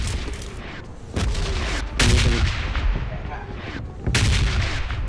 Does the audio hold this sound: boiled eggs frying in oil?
no